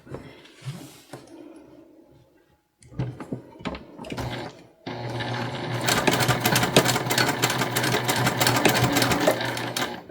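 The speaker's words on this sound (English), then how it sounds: "And I am back stitching." A sewing machine back stitches a cotton tote bag handle, first in short stop-start bursts, then in a long steady whir of rapid stitching.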